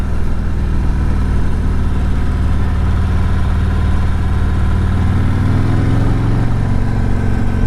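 A 2024 Harley-Davidson Road King Special FLHRXS motorcycle rumbles steadily and loud throughout a ride through tight turns, its low engine note shifting pitch near the end as the rider eases off or rolls on the throttle.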